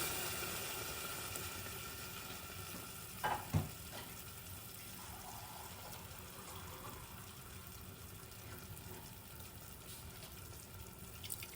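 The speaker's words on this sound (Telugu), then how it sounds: "ఇప్పుడు మనం తగినంత వాటర్ వేసుకుందామండి మటన్ ఉడకడానికి" Water pouring steadily from a glass into a pot of mutton curry, a soft continuous close stream at low level with a brief clatter partway through and no talk.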